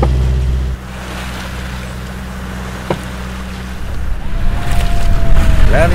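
Sailboat motoring under engine power among the Canary Islands, a steady low diesel drone with water rushing along the hull, the engine note shifting early on and wind and splashing building toward the end.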